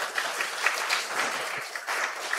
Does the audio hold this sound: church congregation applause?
yes